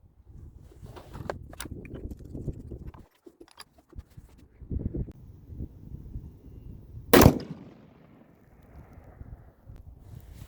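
Ruger American rifle fired with Hornady ammunition at a shooting range: a single sharp, loud report stands out near the end, with lower thumps and rustling noise earlier on.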